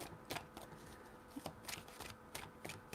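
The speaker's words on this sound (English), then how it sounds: "3 shuffles for Scorpio." Playing cards shuffled for a tarot reading, several quick riffling bursts and soft slaps spaced out in an uneven rhythm, close but quiet and alone.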